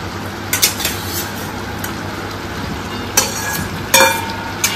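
Fried potatoes are stirred into a spiced masala in a pan, a steady low sizzle of frying under it, with a few sharp metallic clinks and scrapes of a spatula against the cookware.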